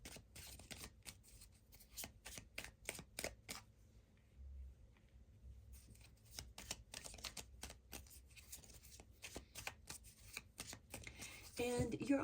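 Tarot cards shuffled close up in a quick run of crisp riffling flicks, pausing briefly and then resuming, with soft handling noises and faint talk near the end.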